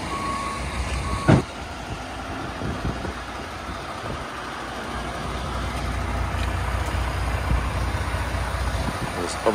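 A loaded lorry and trailer on a farm reversing, with steady repeated reversing beeps over a low idling diesel engine rumble, fairly close, while a voice talks intermittently.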